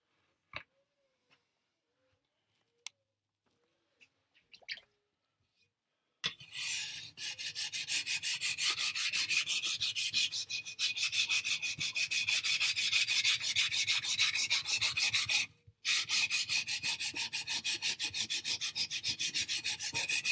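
A chef knife being sharpened: a few faint taps at first, then continuous loud, close rasping strokes scraping steadily for over ten seconds, broken by one brief pause, with no talking.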